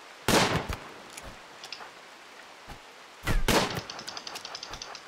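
Gunfire in the video game RimWorld: two loud bursts of rapid shots, one at the start and another midway, with scattered crackling pops trailing after each and a faint chiming tone near the end.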